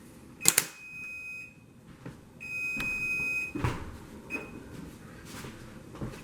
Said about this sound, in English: Timer just went off on the oven.